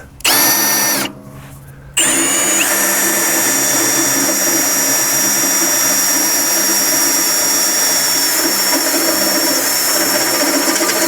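A Milwaukee power drill bores a hole during a Piranha tooth bar installation, starting with a short burst and a pause, then a loud, close, steady high-pitched whine that runs on for about nine seconds.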